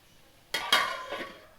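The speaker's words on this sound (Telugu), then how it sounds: "లో ఫ్లేమ్లో పెట్టి ఇలా కలుపుతూ ఉండాలి" A utensil knocks and scrapes against a pan while boiled egg fry is stirred on a low flame, a few close clinks and scrapes over quiet background.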